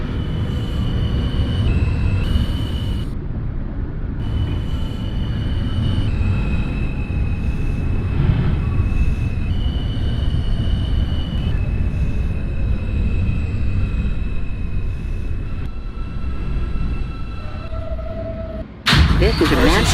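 An NYC Subway R160A train runs in the OpenBVE simulator, a steady rumbling roll with whining motor tones and brief chimes, ending in a sudden loud burst; voices talk over it.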